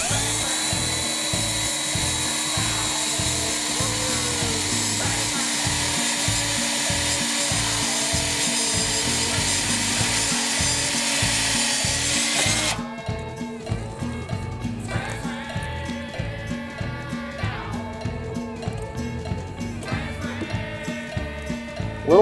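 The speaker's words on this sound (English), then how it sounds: "We're gonna drill a hole right there." A loud continuous mechanical whir from a power drill, close by, that abruptly shifts to a rougher, chattering grind as the bit bites into material, drilling a hole on a John Deere SST16 riding mower's steering.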